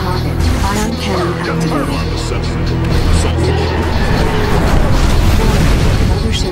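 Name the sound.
video game nuclear missile explosion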